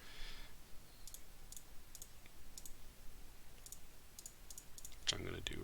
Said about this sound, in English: if we type all that into our calculator